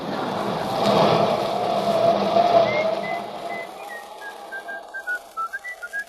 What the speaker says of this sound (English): Cut out that whistling.